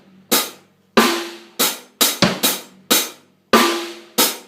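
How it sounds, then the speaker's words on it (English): Drum kit playing a half-time dubstep groove: sharp, close snare and kick hits spaced in a steady broken rhythm with a quick double-hit fill, no voice. "so I'm going to play half the bar sort of a straight groove,"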